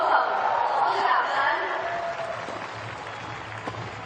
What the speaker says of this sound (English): Being introduced to the crowd to a smattering of applause.